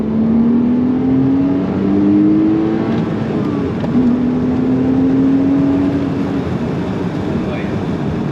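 A loud Porsche 987 Cayman S engine revs and climbs in pitch as it accelerates hard in second gear from about 3,000 RPM, drops briefly, then winds up again, roaring close by.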